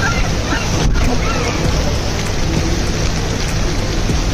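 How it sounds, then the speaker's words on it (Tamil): Heavy rain pours down steadily during a rescue of puppies, a dense, loud broadband wash that never lets up, with a faint voice briefly underneath. "மழை ஒரு பக்கம் பெய்யுது"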